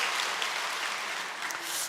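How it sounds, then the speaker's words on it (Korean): A church congregation applauds during a Wednesday worship service, a dense, steady wash of many hands clapping together at an even level for the whole stretch. "자, 박수로 하나님께 영광을 돌리도록 하겠습니다."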